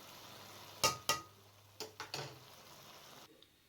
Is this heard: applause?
no